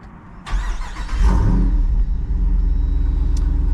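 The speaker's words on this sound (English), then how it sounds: "Let's go ahead and start this thing up and listen to the exhaust." A 2023 Jeep Wrangler Rubicon 392 V8 cranks and fires, then settles into a loud, deep, steady exhaust rumble at close range.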